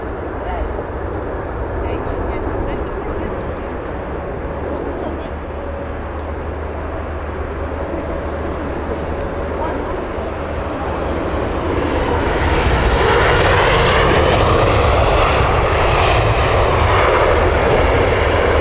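An airliner from Copenhagen on final approach at Heathrow roars steadily, its engine noise growing louder and brighter toward the end as it passes close, with someone talking over the sound.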